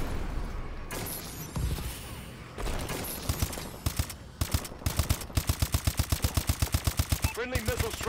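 Turret machine gun fire in a video game match, scattered shots and bursts at first, then a rapid, evenly spaced stream of loud rounds, with a few brief background voice sounds.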